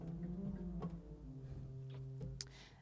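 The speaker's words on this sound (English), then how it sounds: "And here's a principal in the pedal." A pipe organ's pedal principal stop sounds low, sustained tones in a slow sequence, with a few soft key or action clicks along the way.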